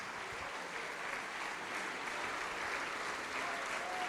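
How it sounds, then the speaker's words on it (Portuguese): Steady applause from a crowd, sustained and even throughout, with broadband clapping noise filling the whole stretch. "vamos aplaudir mais"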